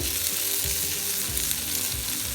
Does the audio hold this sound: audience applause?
no